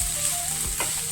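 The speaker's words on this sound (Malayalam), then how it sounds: "നന്നായി മൂക്കുന്നതാണ് വരെ നമുക്കിത്" Chopped onions frying in a pan, stirred with a spatula: a continuous bright sizzle with one short scraping stir.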